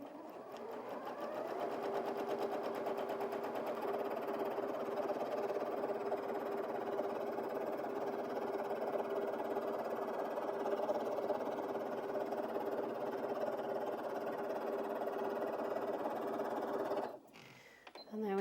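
A Janome 5270QDC sewing machine stitching free-motion feathers into fabric, a steady rapid mechanical hum running continuously for about seventeen seconds before stopping abruptly with a clunk.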